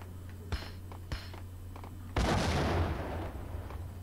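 A few sharp thuds come first, then a loud bomb blast with a rumbling tail that fades over a couple of seconds, set against a steady low hum in the Max Payne video game.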